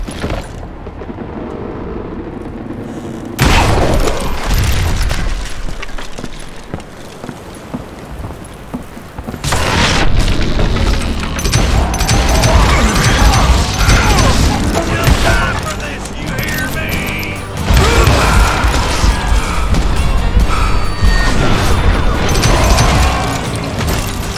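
Dynamite blasts in the Western shooter game Call of Juarez Gunslinger come as loud, booming bursts about every seven seconds. Crackling, rain-like debris and rumble fill the spaces between them.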